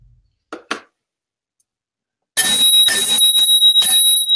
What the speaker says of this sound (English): That's a bike bell.